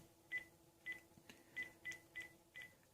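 Six short keypad beeps sound as a number is dialed on a cell phone, each crisp electronic tone quiet and spaced irregularly over a faint steady hum.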